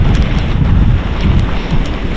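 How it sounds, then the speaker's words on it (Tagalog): Strong wind buffets the microphone in a continuous low roar, with gusts rising and falling and no one speaking. "Napapaspas naman ng hangin eh"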